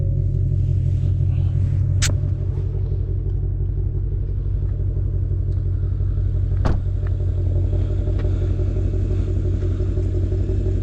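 A Performance Blue 2020 Ford Mustang Shelby GT500 on a test drive, its engine and exhaust a deep, steady rumble heard from inside the car, with a couple of brief clicks.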